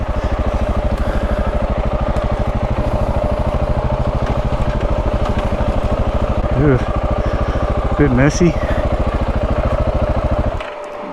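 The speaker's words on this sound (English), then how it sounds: "Turn that engine off, give it a bit of a rest." A KTM 690 Enduro motorcycle idles steadily close by for about ten seconds in a rocky off-road setting, with a few brief revs near the end before it cuts off, while someone talks briefly over it.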